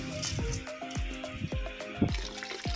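Glutinous rice is being washed in water, heard as close sloshing and swishing with small splashes and trickles in an irregular rhythm.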